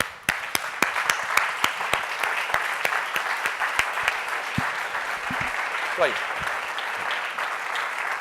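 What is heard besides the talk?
audience applause for Karlos Kuchkowsky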